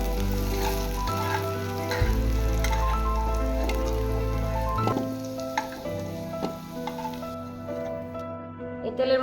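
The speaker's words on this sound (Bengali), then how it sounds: "অল্প পরিমাণ হলুদ গুঁড়ো, অল্প পরিমাণ নুন, কিছুক্ষণের জন্য ভেজে নেব" Potato pieces fry in hot oil with turmeric and salt, a steady close sizzle with occasional crackles and stirring scrapes, over a sustained low hum.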